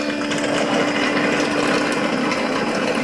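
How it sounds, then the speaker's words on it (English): Brushes in a Roborock S7 Max V Ultra robot vacuum dock scrubbing the mop, a loud, constant whirring hiss with a steady hum underneath, close up and uninterrupted. "Basically there are some brushes that clean the mop"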